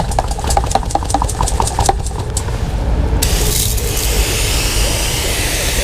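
A hand sprayer watering freshly sown seed trays: a few sharp mechanical clicks come first, then a close, steady hiss of spray takes over.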